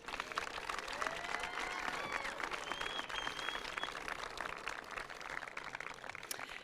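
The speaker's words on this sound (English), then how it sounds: "Big round of applause." An audience at a school commencement ceremony applauds, a faint, steady wash of many hands clapping from a distance with some crowd murmur mixed in.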